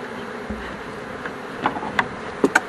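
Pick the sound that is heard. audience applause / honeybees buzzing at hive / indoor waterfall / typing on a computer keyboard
honeybees buzzing at hive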